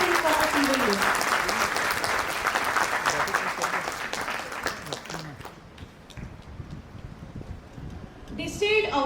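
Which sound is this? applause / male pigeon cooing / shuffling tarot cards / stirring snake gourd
applause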